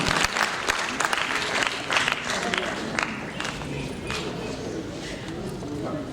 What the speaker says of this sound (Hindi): एक बार फिर तालियों के साथ अभिवादन अभिनंदन